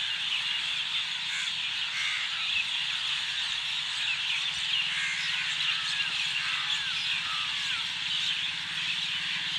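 A large flock of crows cawing continuously over a dense, steady chorus of bird chatter, moderately loud and without speech.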